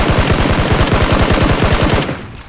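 Rapid automatic gunfire from a shooter video game, a steady burst of loud, closely spaced shots for about two seconds before it cuts off, with no talking over it.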